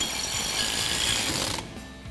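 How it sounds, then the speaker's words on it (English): A ratchet fitted with a T30 Torx bit tightens a screw on a 2019-2023 Silverado 1500 brake assembly, giving a brief run of rapid mechanical clicking and grinding that stops abruptly, then faint background. "we'll go ahead and get that tightened down again with our T30 Torx bit on our ratchet"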